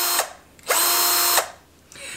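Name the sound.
20V cordless drill driver running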